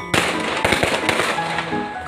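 A firecracker bursts with a loud sharp bang, followed by several further crackling pops and rumbling blasts close by, set off outdoors near a dog frightened of firecrackers.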